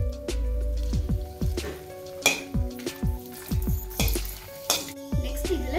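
Four dried red chillies crackle and sizzle in hot oil in a pan, a steady close frying hiss broken by repeated clinks and scrapes of a spoon stirring against the metal.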